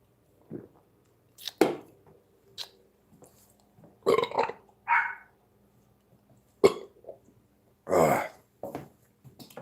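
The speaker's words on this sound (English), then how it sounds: "Burping. It's fun." Several separate loud, close burps come one after another with short quiet gaps, some short and some drawn out, in an otherwise still room.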